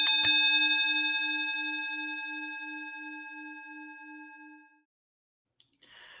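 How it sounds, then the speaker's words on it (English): A single bell is struck once and rings out with a clear, sustained tone that slowly decays over about four seconds into silence; faint noise follows at the end. "let's rehear the bell ring."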